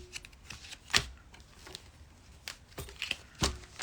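Tarot cards are cut and shuffled nearby, giving a few sharp card slaps and soft riffles spaced unevenly across a few seconds in a quiet room.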